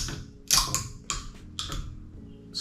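An old, out-of-date can of Red Bull cracked open, a sharp snap of the tab followed by a hiss and a few further clicking metallic taps, close and fairly loud.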